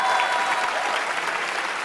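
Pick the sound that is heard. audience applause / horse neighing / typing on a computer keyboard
audience applause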